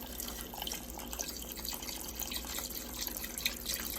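Chicken broth pours steadily into a cooking pot for a Louisiana-style red beans dish, a continuous trickling, dripping liquid stream heard close up with no talking.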